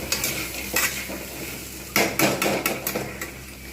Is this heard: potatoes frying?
yes